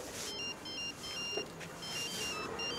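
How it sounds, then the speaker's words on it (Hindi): A mobile phone's incoming-call ringtone, a repeating pattern of short high electronic beeps in quick bursts, moderately quiet against a faint indoor background with no talk. "आ गया रोमियो की लैला का फोन"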